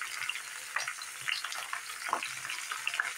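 Chicken pieces searing in a pan for a baked potato and chicken tray, giving a soft, continuous sizzle with faint crackles and small stirring knocks, fairly quiet and without talk.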